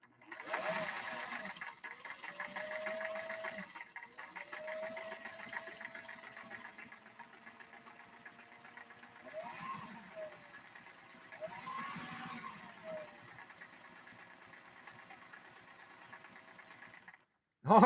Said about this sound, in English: I've got to rev her just a little bit.